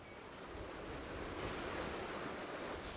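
A river flows in a steady, continuous wash of water, joined by a light breeze, heard alone without voices in a British countryside setting.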